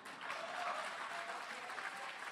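Audience applause at an interview session at the Kerala Literature Festival, a steady wash of many hands clapping, moderately distant and fairly faint, with no talk over it.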